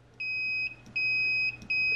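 A multimeter on continuity test gives three clear, steady electronic beeps while probing the metal case and mounting brackets of a 12-volt solenoid, with short gaps between tones and no talking.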